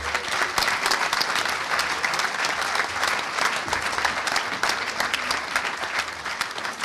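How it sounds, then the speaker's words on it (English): Steady, dense applause from a conference audience at a hacker convention closing ceremony fills the whole stretch, a loud continuous wash of many hands clapping without a break. "give the team another round of applause"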